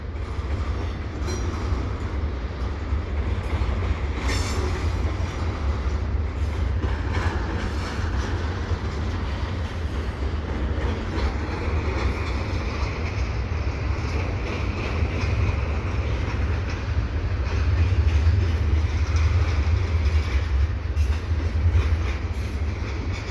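A slow CPKC eastbound intermodal freight train rolls past at Dorval on an evening run, its steady low rumble and rail clatter continuous and fairly loud throughout, with faint wheel squeal on the curve.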